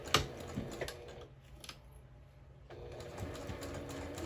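Close, soft mechanical stitching from a sewing machine running along a folded fabric napkin edge with a backstitch, in short rattling bursts that pause briefly in the middle before resuming, with no talking.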